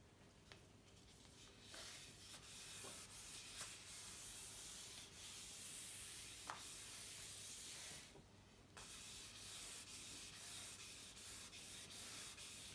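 Steady wet rubbing and hissing of sandpaper hand wet sanding a vintage Berreta Italian aluminum rim, continuous with brief pauses, close and fairly loud, with occasional light taps.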